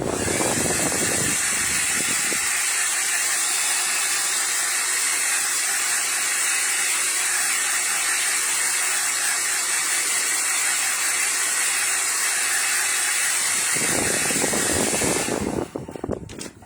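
A hair dryer blowing to dry emerald green eyeshadow pigment, a loud steady whooshing hiss held for over ten seconds with a shift in pitch partway through, close to the microphone.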